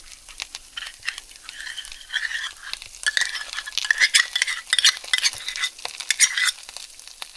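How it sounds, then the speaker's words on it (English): Sour cream being stirred into a beef and refried bean skillet, a close, busy scraping and clicking of a spoon over a low sizzle, growing louder toward the middle. "You want to mix that all up together as well."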